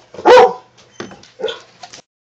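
A Clumber Spaniel gives one loud bark followed by a few softer yips and whimpers, close by, with short pauses between them.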